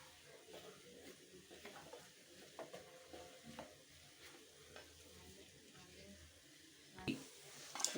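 Peanut-laden laddu mixture turned in a pan as oil seeps out: soft, irregular scraping strokes under a faint sizzle, close but quiet, with a sharper clatter near the end.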